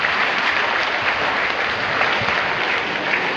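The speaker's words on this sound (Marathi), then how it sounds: "कृपया टाळ्यांचा आवाज इतका होऊ द्या की बाहेर सुद्धा कळलं पाहिजे की तो कोणता मेळावा चाललाय." Sustained applause from the audience at a Nabhik community gathering held on a lawn venue in Pachora, a dense steady clapping that fills the whole stretch at even loudness with no talk over it.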